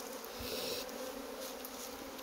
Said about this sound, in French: il y en a partout des abeilles